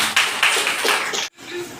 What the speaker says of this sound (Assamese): আৰু এখন মান পত্ৰৰে সকলোকে জোৰদাৰ হাত চাপৰি।